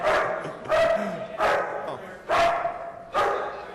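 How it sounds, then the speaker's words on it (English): A dog barks in a council meeting room, five loud, evenly spaced barks close by, with faint room noise between them. "we have a new dog now"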